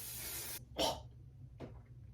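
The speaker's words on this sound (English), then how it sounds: "And I'm going to spray my hair." AG Hair Care Frizz Proof hair spray hisses from a can in a long close burst, then two short puffs, with breathy sounds between.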